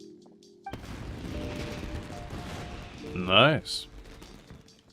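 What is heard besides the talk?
fireworks being set off indoors in Genshin Impact (video game)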